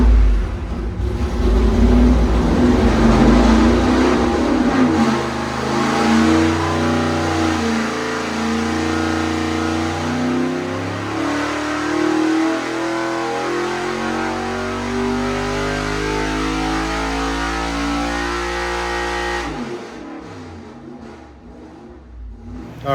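A 406 cubic-inch small-block Chevy street engine with nitrous and an ATM 950 carburetor roars through a loud dyno pull, the pitch climbing steadily for about twenty seconds before it cuts off and winds down.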